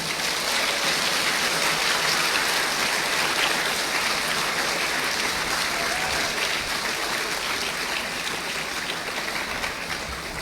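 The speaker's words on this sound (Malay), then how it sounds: "Bagilah satu tepukan yang cukup gemuruh untuk Ustaz." Loud, thunderous applause from an audience of children and adults for a religious teacher, a dense continuous roar of clapping that holds steady for the full stretch with no talk over it.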